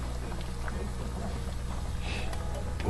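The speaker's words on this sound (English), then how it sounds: "The background noise is the exhaust fan." A kitchen exhaust fan runs as a steady low hum and broadband whoosh with no breaks, and a few faint clinks sound over it.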